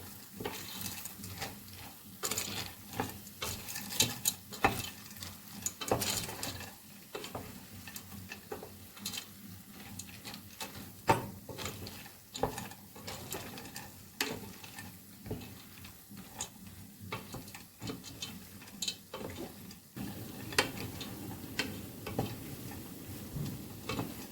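Pasta being stirred into tomato sauce in a pot, with soft scraping, light clinks and a faint sizzle repeating irregularly, quiet and close, no talking.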